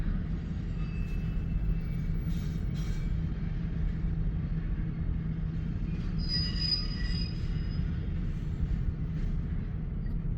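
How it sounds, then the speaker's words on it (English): A double-stack freight train rolling past in Fremont, Nebraska at reduced speed, a continuous low rumble of wagons with high-pitched wheel squeals rising in the middle. "it has just been a floodgate of train after train after train after train"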